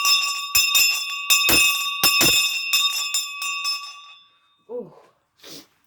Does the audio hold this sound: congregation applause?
no